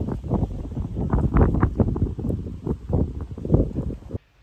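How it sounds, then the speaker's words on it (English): Outdoor wind buffets the microphone in a steady, rough rumble with gusty swells throughout, loud and close, then cuts off abruptly at the end. "It's a little windy."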